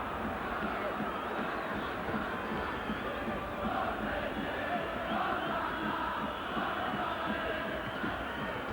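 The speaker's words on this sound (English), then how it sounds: "The Florence crowd in great heart here. Good voice too, really making themselves heard around the stadium." A large stadium crowd in Florence sings and chants throughout a 1991/92 Serie A match, Fiorentina against Juventus; a steady, dense roar of massed voices fills the ground, distant and continuous, without clear individual words.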